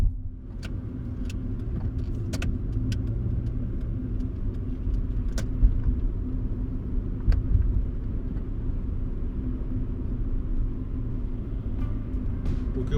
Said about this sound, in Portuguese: Lá atrás praticamente não ouvimos o motor, mesmo a 120, 130 na autoestrada